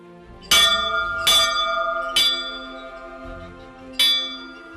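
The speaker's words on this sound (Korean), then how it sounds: "예배 시간 알리는 종인 것 같아요." A church bell rings to announce a worship service, four bright metallic strikes at uneven intervals, each ringing out with a long shimmering decay, close and clear with no talking.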